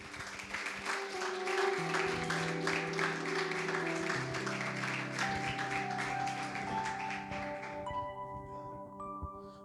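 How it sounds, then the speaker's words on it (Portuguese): A church congregation claps steadily in rhythmic applause while sustained organ or keyboard chords play underneath. "Igreja, aplauda e glorifica Jesus"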